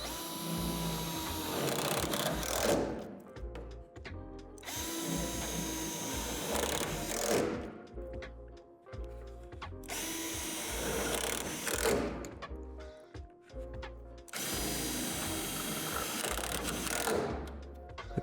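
Self-tapping screws are driven through the metal frame of a Lifetime 48-inch portable basketball hoop, giving four bursts of close, grinding, ratcheting drill whir separated by short pauses.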